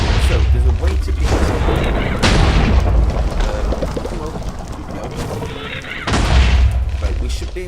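Loud, booming explosions in the Minecraft Feed The Beast modpack, a dense run of heavy blasts with sharp bursts near the start, around two seconds and again just after six seconds, rumbling continuously between them.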